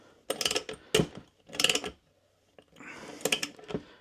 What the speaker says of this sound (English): you can just ratchet him on